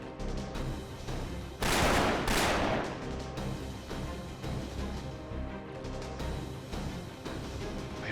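Gunfire booms in Fate Grand Order's Permafrost Empire, Anastasia chapter: two heavy, close blasts in quick succession, followed by scattered lighter shots and rumbling over a constant background.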